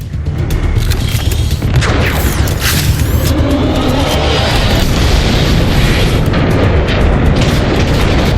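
Loud, continuous cannon fire in Transformers: Fall of Cybertron, booming blasts and rumbling, heavy explosive thuds layered over a dense roar throughout.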